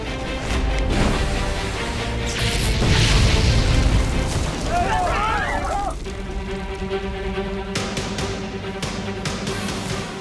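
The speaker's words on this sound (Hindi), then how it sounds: "ये इतना जोर का धमाका कैसे हो रहा है" A loud, rumbling blast swells into a roaring burst, followed by crackling and a lingering low rumble.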